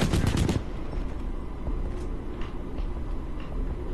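Flatline rifle fire in the video game Titanfall 2, a loud, tight automatic burst lasting about half a second, followed by a steady dense rumble of in-game ambience.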